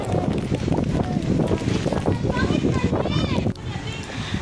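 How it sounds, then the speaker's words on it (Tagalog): Strong wind at a beach pool buffets the microphone in a constant roar, with voices and splashing faintly mixed into the noise. "Grabe ang hangin."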